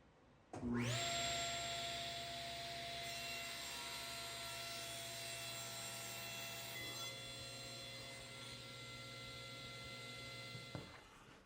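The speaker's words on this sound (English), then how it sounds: "I'll set up the miter sled and cut the miters on the table saw." A table saw on a miter sled cuts miters in wooden molding. The blade spins up suddenly with a loud whine, keeps humming steadily through the cut, and then winds down near the end.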